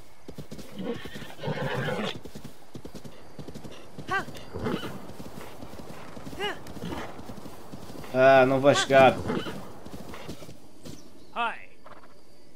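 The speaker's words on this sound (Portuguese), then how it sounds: "Apanhei um cavalo." A wild horse in the video game The Legend of Zelda: Breath of the Wild gallops with rapid clip-clop hoofbeats and gives a loud whinny partway through, while a player talks over the game sounds.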